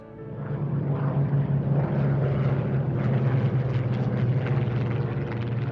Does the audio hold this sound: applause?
no